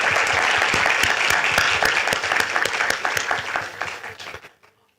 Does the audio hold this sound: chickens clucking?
no